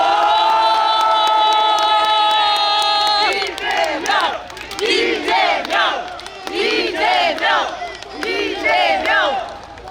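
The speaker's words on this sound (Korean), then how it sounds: "여러분 힘찬 박수 함성을 부탁드립니다." A crowd at a Democratic Party rally roars with cheers and shouts, rising in loud surging waves after a sustained tone, with some clapping mixed in.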